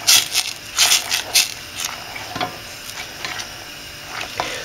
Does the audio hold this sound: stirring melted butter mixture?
yes